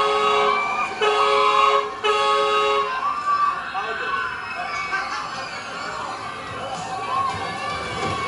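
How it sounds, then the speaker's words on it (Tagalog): Harmonic car horn honks in the first three seconds, sounding in short repeated blasts over street noise and nearby voices, then fading into general traffic and chatter. "Bumubusina pa, ayan na."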